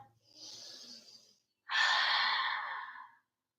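Two soft breaths during a yoga flow, a gentle inhale followed by a longer, louder audible exhale through the mouth, close and alone with no talking.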